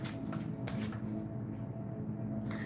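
Tarot cards are shuffled by hand, soft riffling and flicking bursts repeating close by at a steady, quiet level with no talking.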